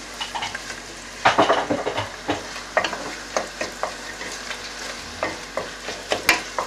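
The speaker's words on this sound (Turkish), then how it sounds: "salça, biber ve biber ve domates salçası. Onu da kavuruyorum." Pepper paste and tomato paste frying in a pan, with a steady sizzle under repeated scraping stirs of a spoon, close and moderately loud, no talking.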